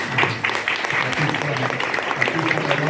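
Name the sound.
audience applause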